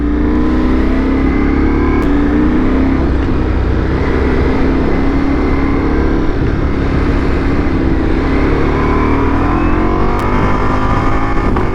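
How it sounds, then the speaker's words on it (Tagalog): A Ducati Multistrada V4S motorcycle engine running loud and close with a quick shifter and auto blip, a dense steady roar with rising and falling pitch as it pulls through the gears, plus wind noise. "this is equipped with quick shifter of course and auto blip"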